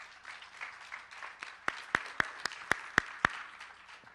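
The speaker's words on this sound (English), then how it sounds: "please give a round of applause to our very great panelists" Six sharp, evenly spaced hand claps ring out near and clear over a soft, diffuse crowd murmur, as an audience applauds panelists at a data and technology event.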